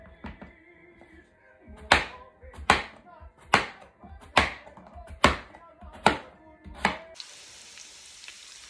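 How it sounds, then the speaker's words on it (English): Peeled potatoes are cut on a board in a home kitchen, giving seven evenly spaced, sharp knife chops, close and fairly loud, with a brief hiss of pan frying or sizzling at the end. "then we're just going to get them cut up and put in the pan"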